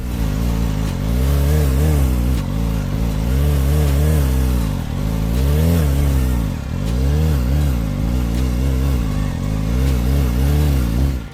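Motorcycle engine held at raised idle around 4000-4500 rpm during rear-wheel circle stunt practice, a loud steady drone with slow rising and falling pitch waves, close and continuous with no talk.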